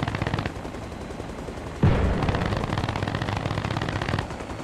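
Sustained machine gun fire from a gun run in the Arma Reforger game's Mogadishu battle, a dense rattling burst that swells sharply near two seconds and rolls on loudly to the end, with no talk.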